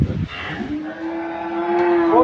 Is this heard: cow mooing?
yes